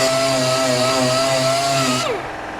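A power sander whines steadily against filler on a car's dented bodywork, a high, even tone that winds down and cuts off near the end.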